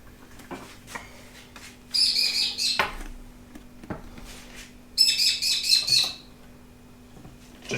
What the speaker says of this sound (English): all those birds are loud